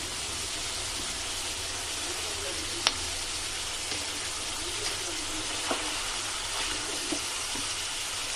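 Dill and mint leaves frying in hot oil in a pan for a liver curry, a steady loud sizzle throughout with a few soft clicks of stirring.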